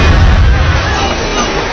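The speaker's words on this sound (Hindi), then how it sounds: "विशेषज्ञों के ऑपरेशन के बाद कुर्सी सफलतापूर्वक विस्फोट हो गई।" A chair blowing up in a fantasy thriller film, a single loud, deep boom rolling into a sustained rumbling roar that fades slowly.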